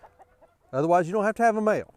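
A rooster crows in a long, loud, wavering call that takes up most of the two seconds, with a short break partway through. Someone speaks briefly before it and the call stays close and strong.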